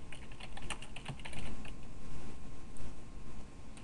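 Keys clatter on a computer keyboard as a network command is typed into a command prompt, a close, irregular run of clicks and taps with no talking.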